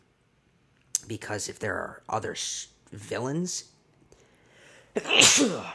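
A person talks, pauses, then lets out a single loud, close sneeze near the end.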